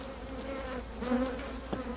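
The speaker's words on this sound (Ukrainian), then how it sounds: "яку подивишся, і вони потім цілий день за тобою літають" A honeybee colony buzzes steadily around a beekeeper during open feeding, the close drone of many bees holding a continuous hum with individual insects swelling louder as they pass near.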